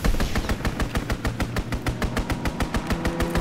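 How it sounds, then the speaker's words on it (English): Strafing run by an enemy aircraft in Call of Duty WWII, a rapid, evenly spaced burst of heavy machine-gun fire, loud and close, about two dozen shots in quick succession. "Enemy strafing run inbound."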